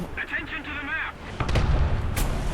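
Tank cannon fire in War Thunder lands as a single heavy boom with a lingering low rumble, after a stretch of someone talking over the battle noise.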